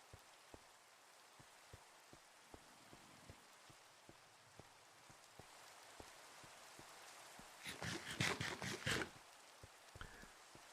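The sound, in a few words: rain at night in a video game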